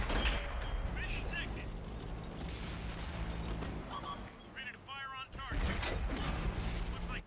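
Tank cannon fire in World of Tanks, with heavy booming reports amid constant battle noise and a voice talking over much of it; a sharp blast stands out near the end.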